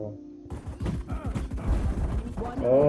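Rapid gunfire rattles in the tactical shooter Valorant, a fast string of close, punchy shots in quick bursts, followed by a brief rising mechanical whine at the end.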